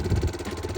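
Yamaha Grizzly ATV engine running with an exhaust leak, a close, steady low rumble with rapid rhythmic pulsing throughout.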